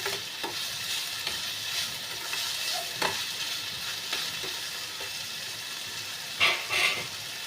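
Shavige uppittu, a vermicelli dish, is stirred in a hot pan with salt, and steady frying sizzle runs under repeated scraping strokes. Two louder scrapes come near the end, close up, with no voices.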